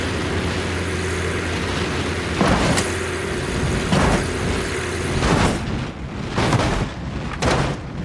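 A Lamborghini Sesto Elemento in BeamNG Drive accelerates with a loud, sustained engine roar. Several heavy booming bursts break through the roar near the end.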